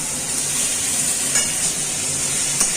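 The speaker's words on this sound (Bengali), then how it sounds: "আমি এর সাথে একটা টমেটো কেটে রেখেছিলাম, সেই টমেটোটাও ভেজে দিচ্ছি" Chopped tomato frying in a pan with fried spices while making Bengali-style mutton kosha, a loud, steady hissing sizzle close by with a couple of brief stirring knocks.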